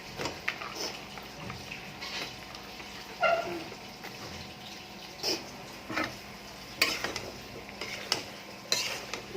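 Potato, pointed gourd and eggplant with dried fish being sautéed in a pan, with steady close frying sizzle and intermittent spatula scrapes and stirring knocks.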